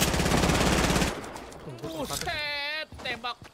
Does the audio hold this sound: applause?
no